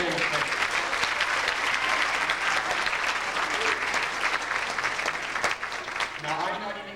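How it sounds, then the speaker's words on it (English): Steady applause from a pageant audience cheering for local farmers, a dense continuous clatter of many hands filling the whole stretch, with a voice briefly heard near the end. "Let's give a round of applause for our farmers."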